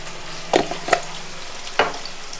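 Ginger garlic paste and turmeric hiss in hot oil for a crab biryani, with a soft steady sizzle punctuated by a few sharp spatters and stirring scrapes, close and fairly loud.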